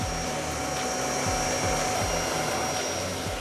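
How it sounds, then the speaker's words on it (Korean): A special mattress-cleaning vacuum machine runs continuously on a bed mattress during a professional deep clean, giving a steady loud motor whine and airflow roar with low rhythmic churning pulses, no voices. "침대 매트리스는 특수한 청소기가 있어야 청소를 할 수 있기 때문에"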